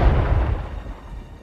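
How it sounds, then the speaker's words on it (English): A heavy thunder clap booms in the video game Airport Firefighters, a loud low rumble that starts strong and slowly fades over about a second and a half, with no talking. "No, that was just thunder."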